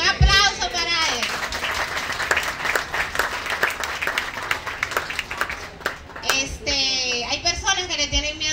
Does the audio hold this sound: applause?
yes